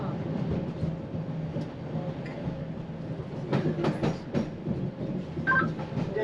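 Pikes Peak cog railway train rolling along with a low steady rumble, punctuated by a cluster of sharp metallic clicks and clacks midway and near the end.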